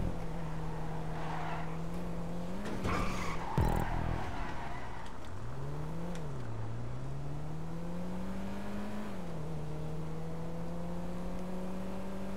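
A car in GTA V drifts through a race, its engine droning steadily with pitch that dips and climbs as it slides, while tyres briefly screech midway.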